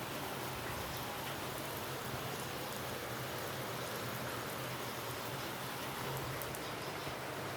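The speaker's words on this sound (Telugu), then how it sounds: "చూడండి, సన్నం పడుతుంది వర్షం." Light drizzling rain gives a soft, even, continuous hiss, faint and steady throughout with no other distinct sounds.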